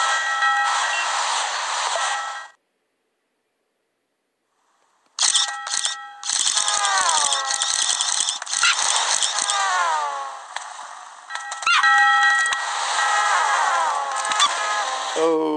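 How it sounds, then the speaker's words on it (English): In the Crossy Road video game, a train rushes across the tracks and runs over the player character: loud bursts of bright, tonal game sound, then a short silence before the effects and a rushing passage return, under what may be a voice. "Oh, got run over by a train."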